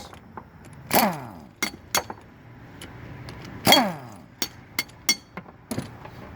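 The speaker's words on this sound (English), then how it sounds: "We're going to get off these 4 17 millimeter nuts." Tools clink and ring while 17 mm nuts are removed from a brake drum on a Suzuki Samurai rear axle. Two sharp metallic clanks stand out, with lighter ticks and knocks between them, close and without speech.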